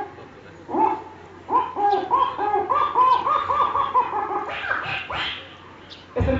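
A man at a school imitates an owl call with his voice, producing a series of repeated hooting, quavering calls that rise and fall, loud and close, with no other talk.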